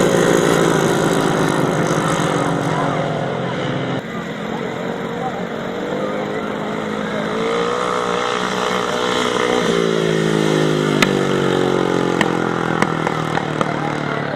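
500cc sidecar motorcycles racing on a grasstrack, engines droning and revving with rising and falling pitch as outfits pass, a race commentator talking over the constant engine noise.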